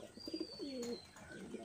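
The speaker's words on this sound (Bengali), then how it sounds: "অনেক সুন্দর একটা মাদি কবুতর" A sky-blue female pigeon cooing softly at close range, with a few low, rolling coos in quick succession against a quiet background.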